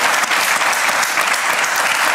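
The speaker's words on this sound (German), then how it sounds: "Ja, Applaus ist Applaus." A burst of dense studio audience applause on a German TV talk show, loud and continuous across the short stretch with no voices on top.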